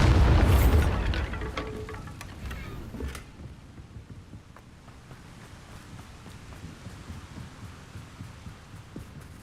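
A Bombarda blasting spell in the game Hogwarts Legacy bursts with a loud booming explosion at the start, then fades into a low rumbling, crackling tail.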